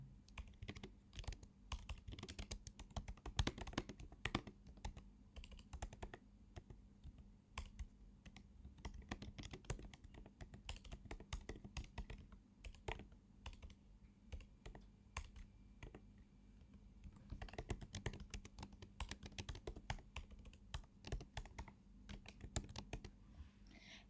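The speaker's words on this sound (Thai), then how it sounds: "เราก็สามารถที่จะพิมพ์ได้ละนะคะ" Steady typing on a computer keyboard, irregular clicking keystrokes continuing throughout at moderate closeness with no talking.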